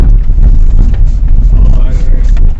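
A 2004 carbureted Maruti 800 driven fast over a rough road patch, with a loud, close, steady engine and road rumble and low thumps from the bumps; someone talks over it.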